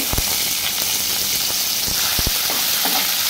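Green chillies, onion and curry leaves fry in hot oil with a constant close sizzle, broken by a few sharp spatter pops and the scrape of stirring, no voices.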